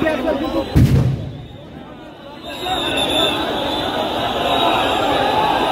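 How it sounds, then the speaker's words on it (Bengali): Police sound grenade going off at a protest by dismissed BDR members at Kakrail crossing in Bangladesh, one loud boom near the start followed by a steady crowd roar and voices. "সাউন্ড গ্রেনেড মারা হচ্ছে"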